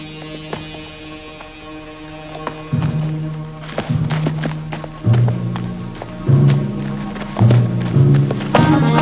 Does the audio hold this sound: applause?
no